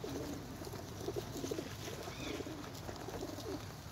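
Pigeons coo repeatedly in Regent's Park, London, a soft rolling call recurring every half second or so at moderate distance, over a faint outdoor background hum.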